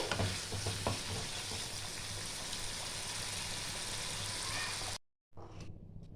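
Fried spice paste gets stirred into a pot of khichuri, a loud, close sizzle with continuous scraping of the spoon that cuts to silence near the end before a brief, fainter return.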